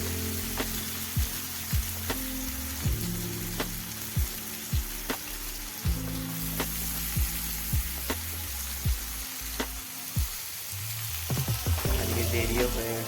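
Onions fry with cumin and five-spice in a pan, a constant close sizzle with occasional sharp clicks and pops, and a few quick scrapes of stirring toward the end.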